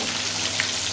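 Chicken frying in oil for chargha biryani, a dense, even hiss of sizzling fat filling the second without a break, close and steady.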